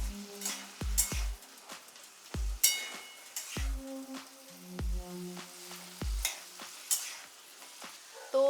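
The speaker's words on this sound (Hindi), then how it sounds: "गोल्डन ब्राउन होने तक इसे भूनेंगे। और आँच हम लोग मध्यम रखेंगे मीडियम" Potatoes fry over medium heat in a pan, a low sizzle under repeated clacks of a spatula as they are stirred and turned, about one knock every second, close and moderately loud.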